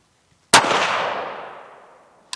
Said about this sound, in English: Now I'm shooting supersonic ammo, but a little bit of felt recoil.